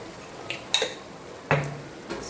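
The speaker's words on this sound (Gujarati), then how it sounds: "સરસ હલાવી લઈશું એને." Noodles are stirred in a pan with a utensil, producing a few sharp metallic clinks and scrapes spaced irregularly against a quiet kitchen background.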